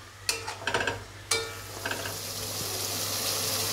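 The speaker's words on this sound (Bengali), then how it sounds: "এই মশলাটা এবার আমাকে ভালো করে কষিয়ে নিতে হবে।" Ginger-garlic masala sautéing in a pan for a soya bean and potato curry, with a few sharp scraping stirs in the opening seconds over a steady sizzle that continues alone and fairly close.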